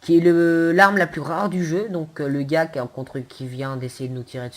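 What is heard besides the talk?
No distinct noise like a dog, phone or traffic.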